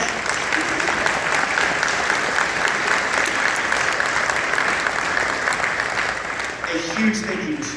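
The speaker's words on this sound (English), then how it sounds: "another round of applause, and a huge thank you for me personally too" Sustained applause from a concert audience at an all-county school band concert in Kannapolis, Cabarrus County, steady and dense throughout, with a voice briefly rising over the clapping near the end.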